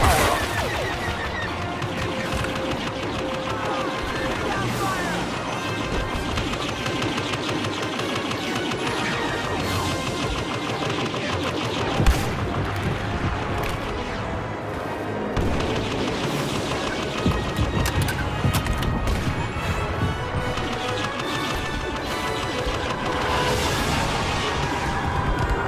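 Blaster fire aimed at an AT-AT walker in Star Wars Battlefront, a dense nonstop barrage of laser shots, explosions and crashes forming a loud, continuous battle din throughout.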